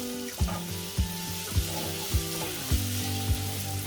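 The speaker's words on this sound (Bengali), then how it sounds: "পেঁয়াজগুলোকে আমি নেড়ে চেড়ে ভেজে নিব।" Onions for a parwal curry sizzle in a hot pan while a spoon stirs them in steady strokes, each stroke giving a soft knock about every half second over the continuous frying hiss.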